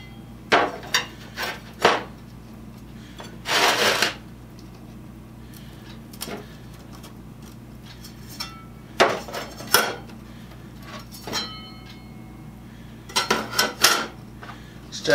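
Metal saw blades stacked into a pan for cleaning, producing scattered clinks and clatters of metal against metal with short bursts of rattling between quiet gaps.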